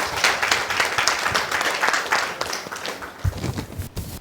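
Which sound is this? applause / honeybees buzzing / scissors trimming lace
applause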